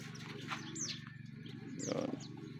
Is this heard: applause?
no